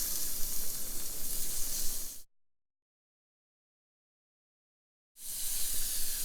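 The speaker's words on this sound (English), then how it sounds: "Once it's nice and hot, you're going to add the shrimp right into the pan." Shrimp sizzling in hot olive oil in a pan over medium-high heat, a steady broadband hiss and crackle that breaks off into a few seconds of complete silence before the sizzle resumes.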